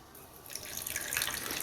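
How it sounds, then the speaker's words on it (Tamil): Water from a tap streams steadily onto sabja seeds in a bowl for soaking, starting abruptly and running close and bright for about a second with a slight splashing patter. "இதை வந்து தண்ணி ஊற்றி ஊற வந்து வச்சிடலாம்"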